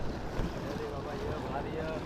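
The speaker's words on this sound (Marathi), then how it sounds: "आता हा ट्रॉलर आहे समोर" A fishing trawler at sea off the Konkan coast gives a steady low engine drone, heard together with wind buffeting the microphone and water washing against the hull.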